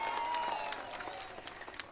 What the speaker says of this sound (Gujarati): એકવાર તાળીઓનો ગડગડાટ થઈ જાય સાહેબ